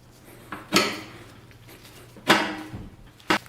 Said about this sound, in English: Slide the head adjuster back in.